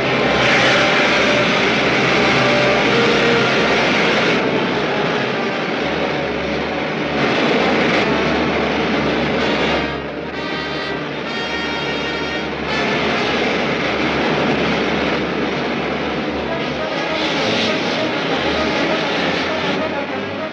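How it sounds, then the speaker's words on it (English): Rocket ship main jets firing in a 1953 sci-fi serial, a loud steady roaring rush that fills the whole clip with slight surges, alongside a voice that can be made out. "Fire main jets."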